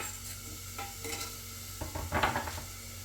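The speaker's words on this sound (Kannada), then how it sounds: "ಹೆಚ್ಚಿಕೊಂಡಿರೋ ಟೊಮ್ಯಾಟೊ ಹಾಕ್ತೀನಿ." Chopped tomatoes drop into onions frying in a pan for a tomato bath, giving a soft sizzle with scraping stirs and light clatter of a utensil against the pan, close and fairly quiet.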